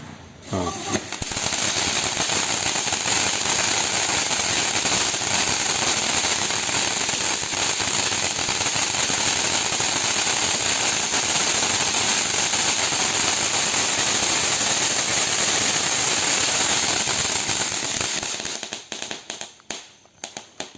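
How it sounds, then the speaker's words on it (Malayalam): A long, dense barrage of New Year firecrackers bursting nonstop, loud and close, for about eighteen seconds before tapering into scattered final pops. "അങ്ങനെ ന്യൂ ഇയർ വെടികൊട്ട് സമാപിച്ചിരിക്കുകയാണ്"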